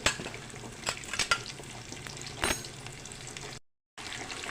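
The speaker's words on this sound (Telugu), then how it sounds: "ఇవి లైట్ లైట్ బ్రౌన్ కలర్లో వచ్చేదాకా ఫ్రై చేసుకున్నామండి" Onions, green chillies and spices sizzle and crackle in hot oil with a few scraping stirs, steady and close, cut by a short silence near the end.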